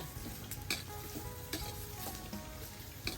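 Northern Thai larb mixture with fish being stir-fried in a pan, a quiet steady sizzle broken by repeated scrapes and taps of the spatula tossing it back and forth.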